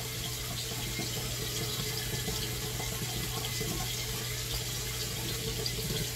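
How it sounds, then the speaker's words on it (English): Steady stream of water running from a bathroom tap while someone washes their face, a continuous even hiss and splash that stays close and unbroken throughout, with no talking. "I could probably turn this water off before I do that."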